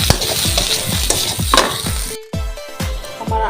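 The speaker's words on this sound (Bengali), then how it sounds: "তো আমি এটাকে এখন নাড়াচাড়া করবো।" Fried bitter gourd sizzles loudly in a pan while a spatula scrapes through it in a quick, regular rhythm, close and continuous, with a brief pause partway through before the stirring resumes.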